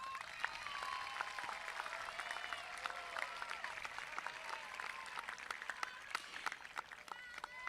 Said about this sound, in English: let's give your friends, families, and parents a round of applause